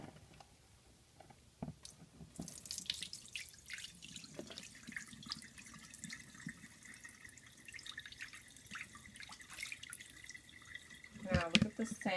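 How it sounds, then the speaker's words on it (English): Soaked sea moss has its water drained off, giving faint intermittent drips and trickles that build into a louder splashing pour at the end. "Okay, I'm going to drain out the water."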